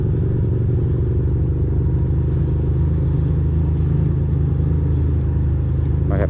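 A motorbike engine runs smoothly while riding through city streets, giving a steady, close, low rumbling drone that holds evenly throughout.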